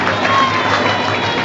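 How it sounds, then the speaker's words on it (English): Football fans at an Aldershot Town home match against Tamworth give a substituted player a warm round of applause, a brief, dense wash of clapping and crowd noise. "He gets generous applause from the Shots faithful"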